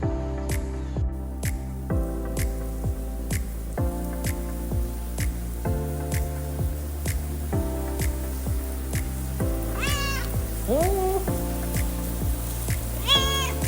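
A pet kitten kept at home meows twice near the end, with short rising and falling cries standing out over steady, rhythmic background music that runs throughout.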